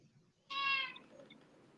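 A single cat meow rings out close and clear for about half a second, then trails off into quiet room noise with faint after-sounds.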